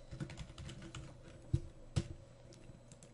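Typing on a computer keyboard while entering text into a spreadsheet cell, a quiet run of soft clicks with two sharper keystrokes standing out, heard alone with no talk.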